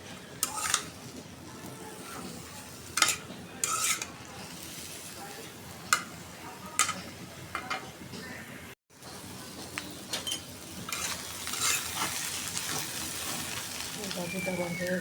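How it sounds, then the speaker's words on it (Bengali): Beaten egg frying and being stirred in a pan, a continuous low sizzle broken by scattered scrapes and knocks of the spatula, with a brief pause partway through. "ডিমটা কষাই নিতেছি আমি, তারপরে ভেজে নিতেছি"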